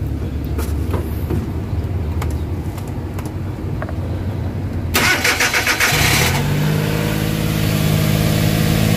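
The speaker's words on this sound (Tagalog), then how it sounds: "i-start natin yung yung makina" A freshly overhauled Suzuki DA64/DA63 engine cranks with a whirring starter around the five-second mark, then catches and settles into a steady idle hum.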